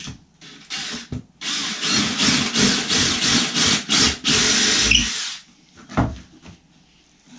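A power drill bores a hole through wood while building a footstool, a series of short loud whirring bursts close by, then a sustained run before it stops, followed by a few knocks.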